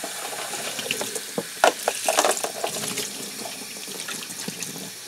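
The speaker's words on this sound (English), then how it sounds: "We'll give it a nice rinse with some warm water." Warm tap water runs into a sink to rinse a bicycle chain that is being cleaned of packing grease; a steady, close rushing stream with a few clinks and splashes, with no talk.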